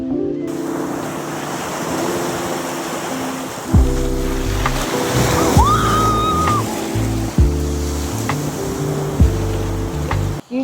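Surf washes steadily onto a man-made beach in Dubai, with a continuous broad wash of waves and wind buffeting the microphone, plus a few low thumps; no one speaks.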